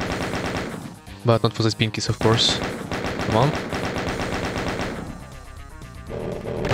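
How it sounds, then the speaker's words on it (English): Rapid chain gun fire rattles in the video game Doom 2, dense bursts of shots, with someone talking over and between them. "I think I probably want to use chain gun here."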